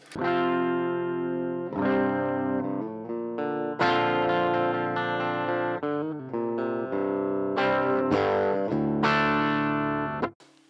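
A clean electric guitar plays a series of chords and single notes with no fuzz pedal engaged, bright and sustained with light effects, loud and alone with no voices.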